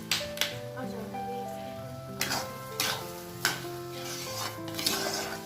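A spoon stirs sugar into pumpkin halwa in a pan, scraping and clinking against the metal in uneven strokes. A low sizzle runs underneath, and music plays throughout.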